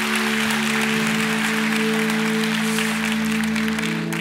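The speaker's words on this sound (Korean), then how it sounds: "박수로 감사합니다." Congregation applause at a church baptism service, a steady broadband wash of clapping sustained throughout over a low droning hum of organ or sound-system tones.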